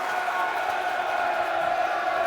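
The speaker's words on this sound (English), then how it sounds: "You can hear the applause behind me, dear listeners." Crowd at a Millwall football match, a steady, dense roar of applause and cheering with a sustained murmur, heard continuously as a wash behind the scene.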